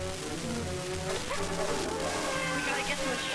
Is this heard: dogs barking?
yes